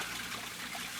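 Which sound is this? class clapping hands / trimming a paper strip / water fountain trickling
water fountain trickling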